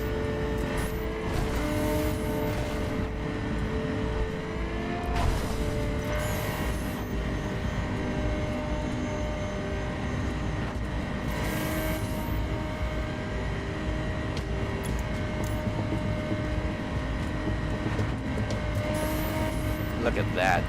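Car engine in The Crew racing game droning steadily while weaving through traffic, continuous and loud throughout with game music or effects layered in and a person talking over it.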